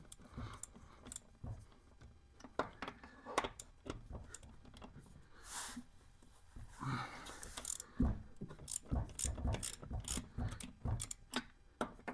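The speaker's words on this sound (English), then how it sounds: "I'm going to go through and take all these nuts off the wheel" Hand ratchet loosening lug nuts on the rear wheel of a 2002 Honda, working in a crisscross pattern: repeated quick clicking bursts with short pauses and handling knocks, fairly quiet and close.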